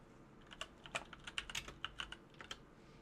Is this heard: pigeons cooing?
no